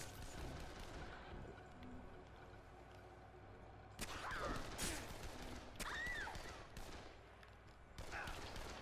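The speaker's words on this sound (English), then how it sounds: "Who's shooting me?" Gunfire crackles through a Dead Island firefight. Bursts of shots and impacts cut in sharply at intervals over a quieter, rumbling stretch, with loud, close cracks in the second half.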